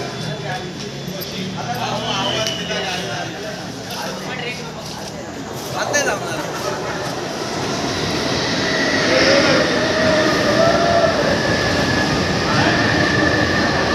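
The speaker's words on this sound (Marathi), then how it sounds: "ठाण्याला जाणारी ट्रेन आली" A Thane-bound train rolls into Digha Gaon railway station with a rumble that builds and wheels squealing high and long; crowd noise and voices surround it.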